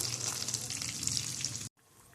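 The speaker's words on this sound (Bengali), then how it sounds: "এপাশ ওপাশ উল্টিয়ে ফ্রাই করে নেবো সবকটা প্রাউন" Prawns fry in hot oil in a pan, a dense close crackling sizzle that stops abruptly near the end, leaving faint quiet background.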